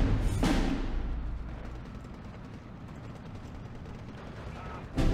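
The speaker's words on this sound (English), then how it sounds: "Group 2, hit me up some artillery here." Artillery rounds land in the World War II strategy game Steel Division 2. A heavy blast opens, a dull rumbling barrage of impacts follows, and another sharp boom comes at the end.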